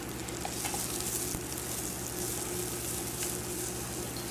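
Onions, pepper, pimento and garlic fry in hot oil over low-medium heat for a Trinidad-style curry corned beef, giving a steady, even sizzle that runs unbroken with no talking.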